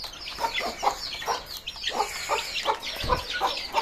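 Tiger-breed chicken chicks cheep and cluck close by in a steady run of short, repeated calls, with a faint low thump near the end and no talk.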